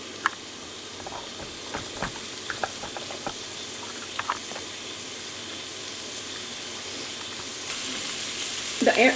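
Onions fry in a pan with a soft, continuous sizzle and bubbling, punctuated by light stirring taps, growing slightly louder toward the end.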